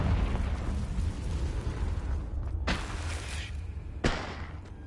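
Explosions from the Confringo spell in Hogwarts Legacy, two sharp bursts that rise over a steady rumbling background, with a fainter thump at the end.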